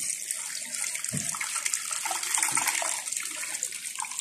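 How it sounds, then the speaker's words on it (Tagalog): Water poured steadily into a cooking pot holding pork hock with bay leaves for crispy pata, a loud continuous splashing rush that lasts throughout without talk. "Tapos ngayon, lalagyan natin siya ng tubig."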